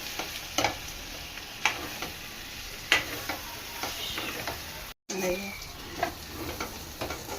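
Ivy gourd (tindora) frying with garlic in a pan gives a steady, soft sizzle, broken by occasional light scrapes and taps of stirring and one brief dropout.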